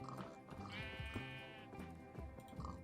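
A Minecraft sheep bleats close up in a few wavering, repeated calls, clear and alone without talk.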